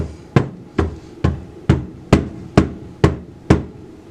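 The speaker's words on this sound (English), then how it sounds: "I'm going to tap it down." A cold process soap mold being tapped down on a surface, nine evenly spaced sharp knocks at a steady rhythm, close and clear with nothing else heard.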